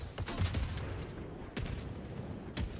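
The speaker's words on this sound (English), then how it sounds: "look at the mortar just kicking this guy's ass" Mortar fire in a video game: repeated heavy booms with broadband blasts, several spaced impacts over a low rumbling bed, loud and fairly close with no talking.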